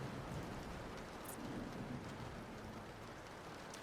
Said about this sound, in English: Dude, we haven't had someone redeem rain sounds in a while.